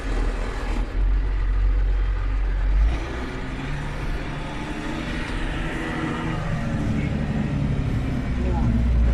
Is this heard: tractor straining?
yes